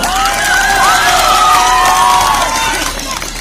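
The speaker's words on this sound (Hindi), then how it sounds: "एक बेर जोरदार ताली बजा दियो" An audience at a silent-act stage performance claps and cheers loudly and close, with whoops and high children's shouts riding over the clapping before it thins at the end.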